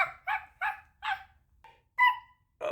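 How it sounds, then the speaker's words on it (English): Birds call in the morning with about six short, nasal, honking bursts at uneven intervals, close and clear, with no talking. "The birds are chirping."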